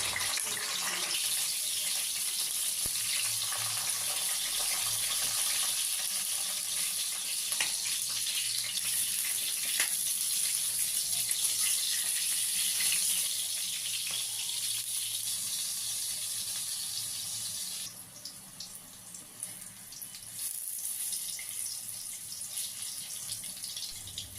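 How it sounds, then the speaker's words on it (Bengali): Eggplant pieces fry in hot oil in a wok with a steady, loud, bright hiss that runs unbroken for a long stretch, turning slightly rougher and more uneven toward the end. "এদিকে কড়াই গরম হয়ে গেছে, তেল দিয়ে দিয়েছি। এবার এক এক করে বেগুন ওই তেলের মধ্যে দিয়ে দেব।"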